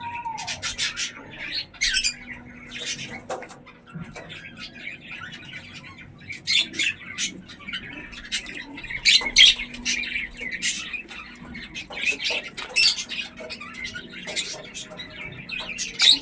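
Lotan pigeons in a loft give scattered squawks, chirps and calls, with rustling and scratching in between, some bursts louder and closer while others sound farther off, over a steady low background hum.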